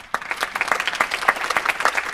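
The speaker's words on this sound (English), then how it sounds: "So I think we can applaud them once again." An audience at a mentorship panel event applauds, with a brisk patter of many hands clapping at close range, steady and lively throughout.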